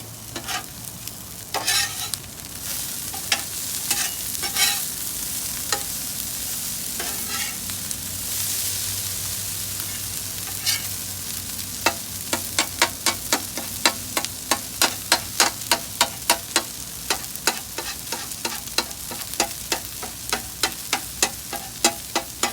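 Frozen peas go into fried rice with teriyaki chicken on a Blackstone griddle, giving a steady sizzle with a brief hissing burst, then a run of sharp, rhythmic metal spatula scrapes and taps that speed up toward the end.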